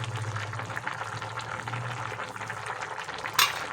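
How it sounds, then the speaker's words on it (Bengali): Pumpkin and potato curry bubbles in a pot, a continuous busy simmering hiss with a brief louder clatter near the end. "তো তরকারি আমার ভালোই ফুটে গেছে।"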